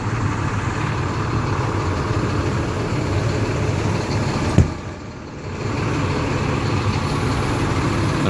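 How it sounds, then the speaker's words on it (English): The diesel engine of a 2008 Phaeton motorhome idles with a steady low rumble, loud and close, dipping briefly after a sharp click midway before settling back to an even drone. "I got the engine running, so I'm not going to talk much."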